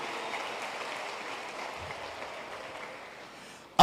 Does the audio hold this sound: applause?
yes